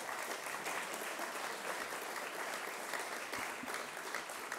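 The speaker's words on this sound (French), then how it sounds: "Vous pouvez l'applaudir, Marco." A room full of people gives steady, even applause for a workshop organiser, a dense uniform patter of clapping held at a constant level throughout.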